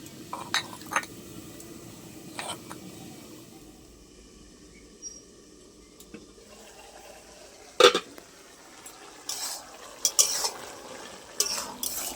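Spoon stirring bottle gourd curry in a pot, giving intermittent scraping and clinking knocks against the metal, some sharp and close, over a low background hum with no talking.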